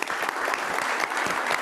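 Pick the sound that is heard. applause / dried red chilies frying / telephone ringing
applause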